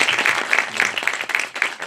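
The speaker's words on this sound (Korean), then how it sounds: "지금 약간 엄숙하긴 하지만 세 분한테 박수 한번 보내드리면 좋겠습니다." Lively applause from an audience at an independent film festival forum for three film directors, with sharp individual claps in a loud, close, uneven burst.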